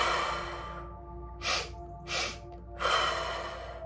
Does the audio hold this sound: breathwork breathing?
yes